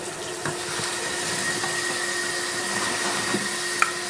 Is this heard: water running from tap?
yes